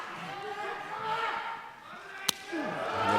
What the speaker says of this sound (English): And then a thumps down into his chest